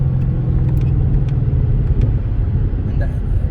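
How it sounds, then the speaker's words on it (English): A 2020 Ford Shelby GT500 runs on its regular exhaust mode, a loud, steady low rumble from the engine and exhaust heard from close by without a break. "And we was on regular exhaust."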